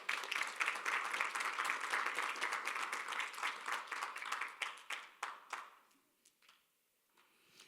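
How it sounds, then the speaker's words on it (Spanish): A church congregation applauds during a sermon, loud dense clapping that gradually thins into scattered individual claps and fades to near silence. "Dale un aplauso al Señor."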